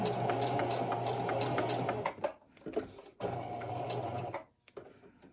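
A sewing machine stitches a blouse neckline facing, a close, steady mechanical whir in two runs separated by a short pause with quiet handling clicks as the fabric is pivoted.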